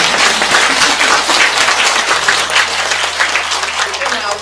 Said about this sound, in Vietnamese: vỗ tay đi